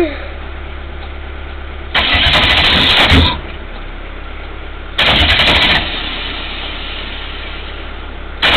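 A VW Golf fitted with a V8 engine cranks and roars briefly twice. Each start is a loud burst of engine noise lasting about a second, separated by a steady low hum.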